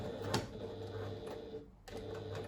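A sewing machine back stitching a pouch seam, faint and close, with a short run of stitching, a brief pause, then stitching again.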